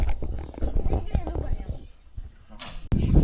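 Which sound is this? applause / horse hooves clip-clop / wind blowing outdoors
horse hooves clip-clop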